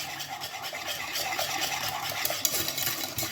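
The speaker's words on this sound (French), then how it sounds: "on va continuer de mélanger pour faire un petit peu cuire la sauce" Custard cream sauce being stirred in a saucepan for floating islands, a steady scraping and swishing of the utensil against the pan bottom in quick repeated strokes, close and moderately loud.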